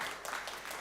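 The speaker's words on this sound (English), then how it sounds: "we should actually start with a round of applause for our hosts" Brief applause from an audience at a climate conference livestream session, a steady wash of many hands clapping at moderate distance for under a second, with no voices standing out.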